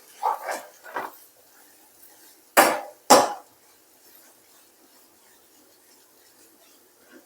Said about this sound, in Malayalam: മീഡിയം ഫ്ലെയിമിൽ ഇടയ്ക്കിടയ്ക്ക് ഇളക്കി നമുക്കിത് ഫ്രൈ ആക്കി എടുക്കാം